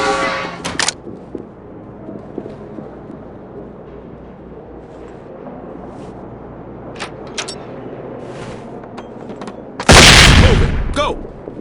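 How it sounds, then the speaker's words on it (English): A grenade is thrown into a doorway in SWAT 4. A quiet stretch with scattered sharp clicks and knocks ends in a sudden, loud, hissing blast. "Deploying a grenade into the doorway will buy your team time to clear the threshold."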